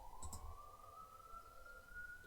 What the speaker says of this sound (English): Yet another ambulance.